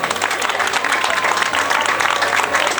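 Crowd applauding the winner of a cycling road race, the Grand Prix de Quessoy, steady dense clapping throughout with a low hum underneath and faint voices mixed in.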